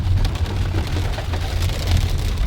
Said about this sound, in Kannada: ನೋಡಿ ಎಷ್ಟು ಚೆನ್ನಾಗಿ ಮಳೆ ಬರ್ತಾ ಇದೆ.